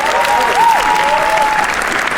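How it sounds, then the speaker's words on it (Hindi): Audience at a comedy roast applauding a panelist's introduction, loud, dense clapping from a packed room with tonal whistle-like sweeps over it, sustained throughout. "तालियां के लिए।"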